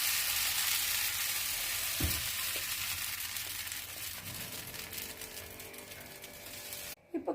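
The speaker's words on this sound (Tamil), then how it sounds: "இப்போ மாவை வந்து விட்டுடலாம்." Dosa batter sizzling on a hot oiled pan, a steady close hiss that fades slowly, with a brief utensil knock partway through and a sudden cutoff near the end.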